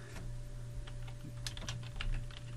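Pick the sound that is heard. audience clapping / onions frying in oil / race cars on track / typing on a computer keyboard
typing on a computer keyboard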